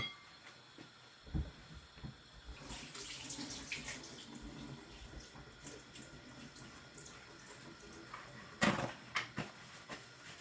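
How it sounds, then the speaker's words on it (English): Tap water running into a kitchen sink while hands are washed, a faint steady splashing flow with occasional louder clunks and splashes, no talking. "So I'm just gonna wash my hands"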